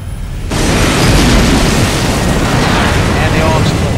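A loud explosion erupts in Resident Evil Code Veronica X, starting abruptly after a brief quiet moment and then sustaining as a dense, roaring rumble that fills the rest of the moment.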